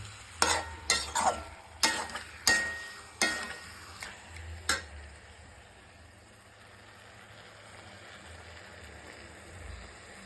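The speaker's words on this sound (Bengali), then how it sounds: "তো আমি এটাকে নাড়াবো গিয়ে ভালো করে মশলাটা মাখিয়ে নেবো" Chicken with spices being stirred in a pan for chicken kosa: a run of sharp metal spatula clanks and scrapes for about five seconds, then a quieter steady sizzle.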